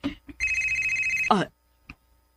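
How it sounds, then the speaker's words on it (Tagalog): A cellphone rings in a steady electronic trill lasting about a second, loud and close, with brief bits of talk before it and a short clicking sound after it stops. "Nakalitan ko sa pagtingog sa cellphone."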